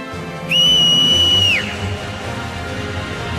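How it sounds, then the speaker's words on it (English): A whistle is blown in the Mobius Final Fantasy game during its FFX collaboration event: one loud, sustained shrill blast lasting about a second that bends in pitch as it stops, heard alone over a soft musical background. "Just whistle."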